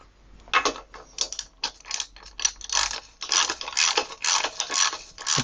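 Metal parts being threaded by hand into the non-drive side of an early-1990s Schwinn Paramount Series 30 PDG bicycle frame, giving close, steady bursts of ratcheting clicks and gritty scraping with short pauses between turns.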